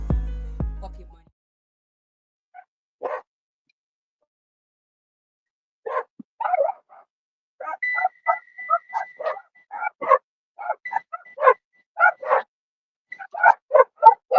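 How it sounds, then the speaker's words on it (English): Dogs bark in scattered bursts, some yips and sharp barks at moderate distance, growing more frequent toward the end after a long quiet stretch. "Hopefully these barking ass dogs aren't as loud to you as they are for me."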